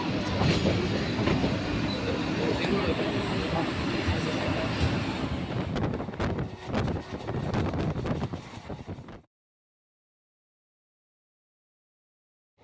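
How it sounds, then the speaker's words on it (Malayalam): A Vande Bharat train moves slowly with a continuous rolling rumble and faint clattering of wheels for several seconds before the sound cuts to silence. "ഇത്രയും സ്ലോയിൽ പോകുന്ന വന്ദേ ഭാരത് അല്ലേ"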